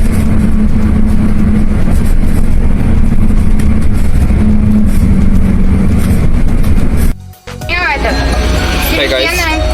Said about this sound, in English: now we are driving in Tuk-Tuk